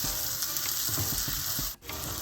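Onion, tomato and ginger garlic paste sizzle steadily in a hot pan, a close, continuous crackling fry with light stirring scrapes and no talk.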